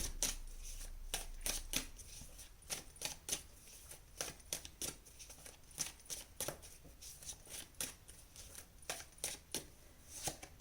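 Tarot cards are handled for a card reading, giving a long run of soft, crisp slaps and flicks as cards are shuffled and laid down one after another, close and fairly quiet.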